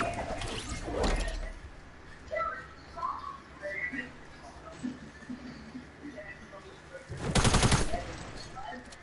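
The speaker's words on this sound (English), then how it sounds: "stop shooting your weapon" Video game gunfire in a Fortnite match: a short burst of rapid shots early on and a louder sustained burst near the end, with quieter game sounds between and players talking over it.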